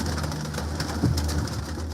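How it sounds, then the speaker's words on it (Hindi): Fantail pigeons coo softly in a short, low burble amid steady background noise at a pigeon breeder's loft, with no voices. "ये जनाब फनियर कबूतर आपको दिखा रहे हैं इस वक्त स्क्रीन पे"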